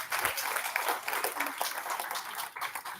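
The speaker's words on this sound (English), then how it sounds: "So please, just a quick round of applause for Dr. Sise." A room audience applauds a doctor introduced at a health event, steady clapping filling the whole stretch at moderate, somewhat distant volume, with faint voices mixed in.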